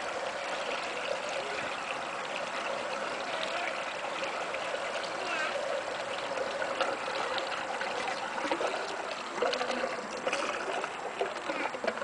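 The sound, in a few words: food waste being poured into a home biogas digester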